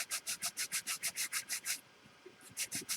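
A sanding stick scrubs back and forth across a seam filled with hardened superglue, giving about a dozen fast, even rasping strokes, a short pause, then a few more strokes close to the microphone.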